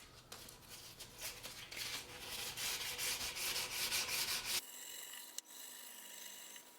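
Fine sandpaper rubbing back and forth over the frets of a guitar neck in short, close, repeated strokes for several seconds, then stopping, leaving a faint quiet hiss and a single small click.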